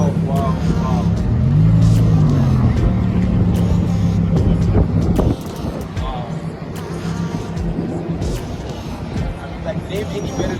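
A twin-turbo wide-body Lamborghini Huracan at a motoring festival rumbles loudly up close with a deep, droning engine note that eases off midway, mixed with wind buffeting and crowd noise.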